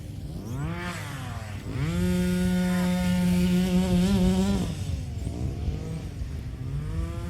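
The gas engine of a Rovan 360GT 1/5 scale RC sand buggy revs with a loud, buzzing two-stroke whine. It climbs to a high steady pitch for several seconds, then drops back and rises again.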